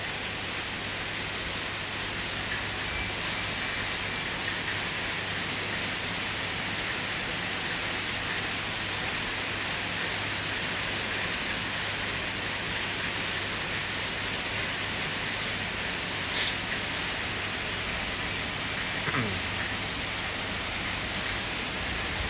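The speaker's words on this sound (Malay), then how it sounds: "Ni hujan, hari suntuk." Steady rain falls in a dense, even hiss for the whole stretch, with no voices and only a faint passing sound near the end.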